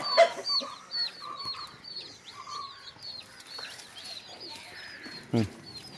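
Chickens in a backyard coop give a run of rapid, repeated cheeps and soft clucks close by, with occasional handling knocks and quiet voices.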